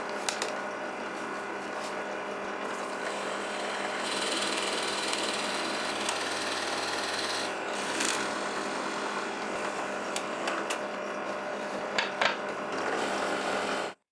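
A power tool cuts openings into the vertical wooden parts of a homemade automatic edge clamp, a continuous buzzing whine at moderate distance with small clicks and bumps of the workpiece along the way.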